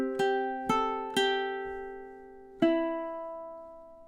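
Ukulele strumming measure 14 of a song, heard as three quick chord strums close together, then a pause before a fourth ringing strum, each decaying cleanly with no voices.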